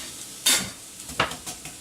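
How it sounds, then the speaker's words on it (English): Chopped onion slid into a hot skillet while making pastel de carne, giving a brief loud sizzling burst followed by a few softer stirring scrapes and crackles, close by with no talking. "I'm just going to slide that right into the skillet. And I love the sound of that sizzle."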